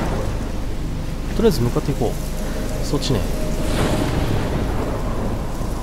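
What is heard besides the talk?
thunderstorm in the video game Life Is Strange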